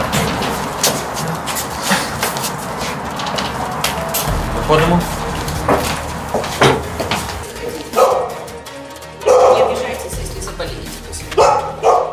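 A dog at a household gate barks repeatedly and loudly up close, sharp bow-wow bursts with some yips mixed in, while people talk nearby throughout.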